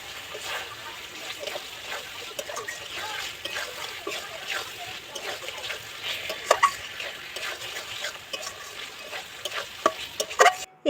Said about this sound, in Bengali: এবার পটলটা মশলার সাথে খুব ভালো করে কষিয়ে নেবো